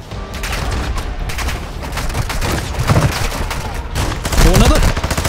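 Dense video game gunfire in Call of Duty DMZ, with rapid overlapping shots and bursts from several weapons, loud and continuous with a few heavier booms.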